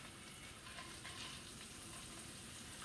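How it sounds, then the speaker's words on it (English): Pats of butter sizzle in hot frying oil in a pan while cooking beef stroganoff, making a soft, continuous crackling hiss that stays fairly faint and even throughout, with no voices. "I cut it into like pats into the oil"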